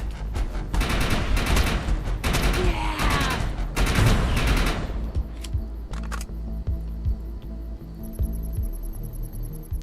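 Gunfire from the video game Defiance 2050 on Xbox One, dense bursts of rapid shots in the first half over a steady low hum, then quieter game ambience with scattered faint pops.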